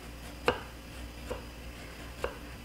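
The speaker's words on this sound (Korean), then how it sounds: "바늘 구멍에 들어갈 정도로 실처럼 가늘게 썰어주시면 돼요." A knife cuts thin slivers of peeled ginger on a cutting board, three separate crisp knocks spaced unevenly against a quiet room, with no talking.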